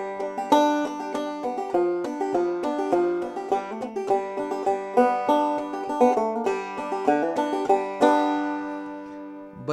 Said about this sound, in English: if you'd want to play it with just kind of single notes noted out, it would sound something like this